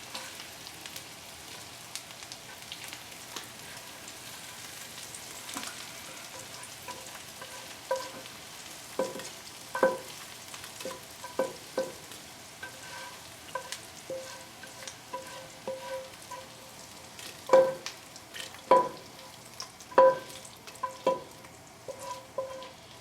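Onions frying in a pot for Italian wedding soup, a steady low sizzle with scattered sharper clicks and spoon scrapes growing more frequent toward the end, close by with no talking.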